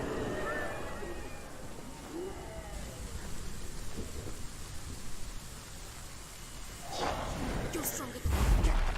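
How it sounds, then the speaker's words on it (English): Rain falls steadily in a dark stormy scene in Hellblade: Senua's Sacrifice, with deep rumbles of thunder rolling underneath and a heavier burst near the end, while a voice speaks over it. "Is it raining blood?"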